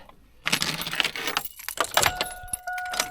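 Car keys jangling up close during a camping trip, a run of bright metallic clinks and rattles after a quiet start, ending with a couple of thin ringing tones.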